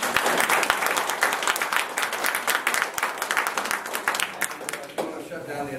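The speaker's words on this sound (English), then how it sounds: "let's give Grady a round of applause" Audience applause after a talk on Roswell, a steady wash of many hands clapping that holds for several seconds before thinning out near the end.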